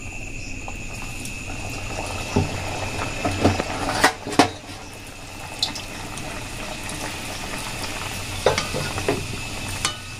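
Dhakai paratha frying in hot oil, a steady low sizzle with intermittent splashing crackles and spatula scrapes, a few sharper bursts as oil is spooned over the top.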